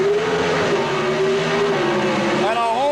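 Chevy Camaro drag racing cars rev and launch, a loud sustained engine drone that holds steady, then climbs sharply in pitch near the end as the cars pull away.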